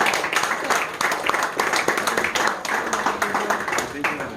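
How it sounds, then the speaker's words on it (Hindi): Audience clapping at a prize distribution function, a crowd's brisk applause with distinct individual claps, mixed with some background voices and chatter. "कृपया उनके लिए जोरदार तालियां बजा दीजिए।"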